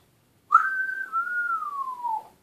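An African grey parrot whistles one long, clear, sustained note that glides slowly downward over nearly two seconds, close and fairly loud with no talk around it.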